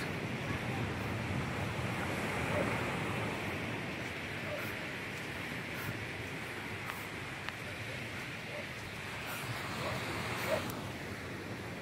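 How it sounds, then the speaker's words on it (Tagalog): Surf washing steadily onto a beach at San Fabian, Pangasinan, a continuous broad roar with wind buffeting the microphone and a few faint distant knocks, no talking. "Tapos nandito yung dagat."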